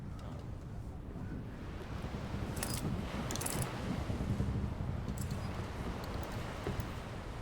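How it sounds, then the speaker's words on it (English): Rough sea waves from the video game Monster Hunter World make a constant, churning wash of surf and wind, with a few faint jingling clicks over it and no speech. "The waves are picking up"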